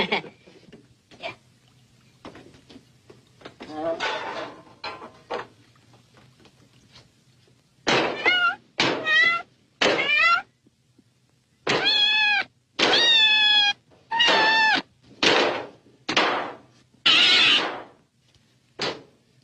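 A cat meows repeatedly, starting with faint scattered sounds and then giving a run of loud, drawn-out wailing meows close by, separated by short pauses.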